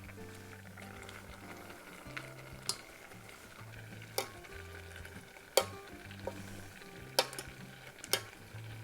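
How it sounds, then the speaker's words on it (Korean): A pot of mugwort soup bubbles on the stove in a steady low simmer, with a few sharp clinks of utensils against the pot standing out at intervals. "자, 이렇게 끓어오르면요 바로 쑥을 넣어주세요."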